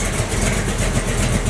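A Toyota Sequoia truck engine running with a loud exhaust, a steady close rumble that holds throughout without pauses or voices.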